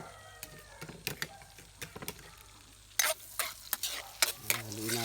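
Duck meat frying with garlic, onion and ginger is stirred in a pan for caldereta, with quiet sizzling under a run of sharp scraping and clacking strokes that grow louder and busier toward the end.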